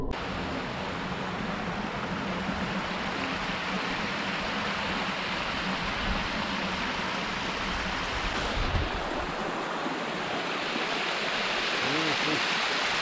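Water pouring down Sanvordem dam waterfall in Goa, running low, makes a continuous broadband rush that holds steady, with a brief low thump near the end and no talk over it.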